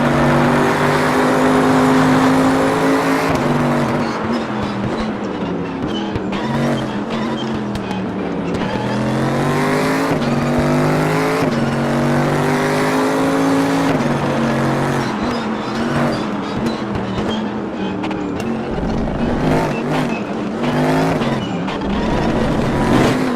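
A race car in the RaceRoom Racing Experience game roars continuously at high revs, its engine pitch climbing and dropping through repeated gear shifts, with braking and corner exits heard throughout and no voices.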